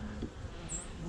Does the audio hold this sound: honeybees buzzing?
yes